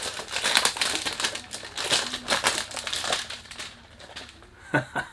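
Loud crinkling and crushing of plastic packaging from a Lattafa Khalta perfume box, in irregular bursts of rustling as wrapping is handled and torn open close by.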